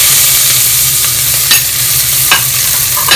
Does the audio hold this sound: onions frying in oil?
yes